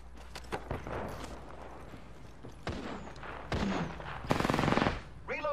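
Gunfire in Apex Legends on Kings Canyon, several sharp single shots and short rapid bursts scattered across a few seconds, loud and close, with a longer rattling burst near the end.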